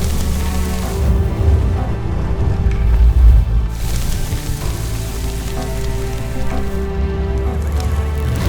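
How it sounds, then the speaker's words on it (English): A raging barn fire in the Firewatch video game roars as a steady, loud, dense rushing crackle that never lets up and has no voices over it. "Oh my god, the fire is really raging now."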